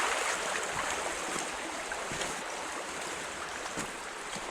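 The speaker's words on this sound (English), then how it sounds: "Pretty much the entire creek goes right into the debris pile." A creek pours into and under a debris pile of fallen wood beside an old quarry, a steady broadband rush of flowing water with faint gurgles, continuous and fairly close.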